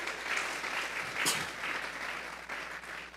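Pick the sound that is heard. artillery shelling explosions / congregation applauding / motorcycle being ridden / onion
congregation applauding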